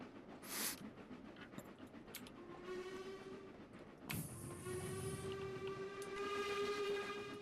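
A train running on the Highland Valley Railway in a railway simulation game, with a steady rolling rumble and two long whistle blasts, the second held on and rising in loudness toward the end.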